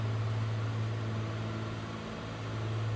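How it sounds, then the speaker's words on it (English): A steady, droning propeller-engine hum from a Piper PA-28R Arrow in Microsoft Flight Simulator 2024 holds at an even pitch throughout, constant and unbroken, with no voices. "Let me just calm down the engine here."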